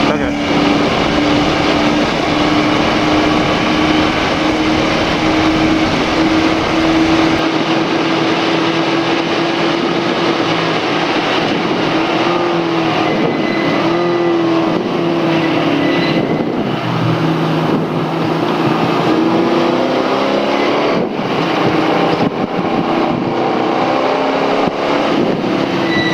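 Car engine droning steadily during a ride in a Miata with Spec E30 shocks, likely not turbocharged: loud continuous cabin drone with wind and road noise and shifting engine tones throughout, recorded from inside.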